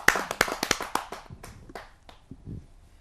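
An audience at a Hindi kavi sammelan poetry gathering claps in a brief, loud burst that thins to a few scattered claps and fades within seconds.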